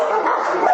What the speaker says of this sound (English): Some still have the energy to bark,